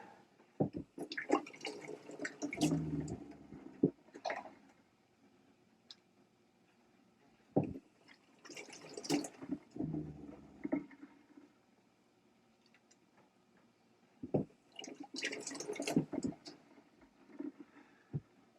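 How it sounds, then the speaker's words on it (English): Water splashes and drips in bursts, as if scooped by hand onto a face, with quiet pauses between each round of splashing. "Some agua on the face."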